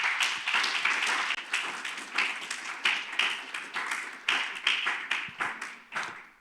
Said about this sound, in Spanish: Denle un aplauso, por favor.